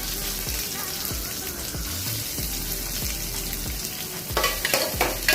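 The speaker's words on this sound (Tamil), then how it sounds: "அது பொரிஞ்சதுமே வெங்காயம் போட்டோம்" Onions frying in hot sesame oil with popped mustard seeds and cumin, a steady crackling sizzle with repeated stirring scrapes and faint clinks, growing louder and busier near the end.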